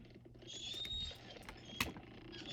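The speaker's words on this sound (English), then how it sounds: "obsessed with the sound of the creaking cart wheels. Sinister, creaking, piercing." Cart wheels creak and squeal in a thin, piercing, drawn-out way, with a sharper knock near the end, quiet and close with no voices.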